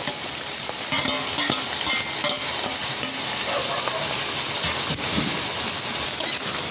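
Chicken intestines fry in hot oil with onion in a pan, a dense steady sizzle close by with occasional stirring clinks and scrapes, and no talk.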